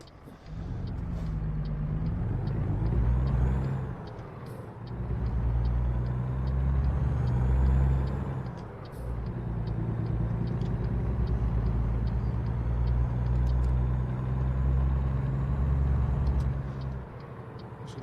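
A heavy American truck engine in American Truck Simulator drones at low pitch, revving up and easing off in several long swells, with faint clicks and hiss above the rumble.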